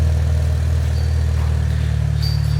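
An MK3 Mini Cooper S idling with a custom rear muffler backbox, giving a steady, throaty low rumble with a regular pulsing beat, close and loud throughout with no voices.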